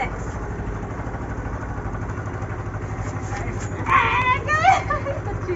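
A small scooter engine idles steadily with a low, even putter, while voices talk nearby and briefly rise over it.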